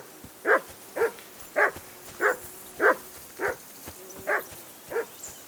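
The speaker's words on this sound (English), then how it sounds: "I assume you can hear that damn dog of yours barking." A dog in a medieval open-world game (Kingdom Come: Deliverance II) barks steadily, about ten evenly spaced, moderately loud barks at roughly one per half second, with no talking.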